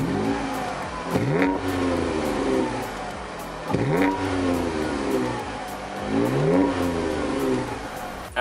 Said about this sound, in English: Now here's the custom exhaust I was telling you guys about.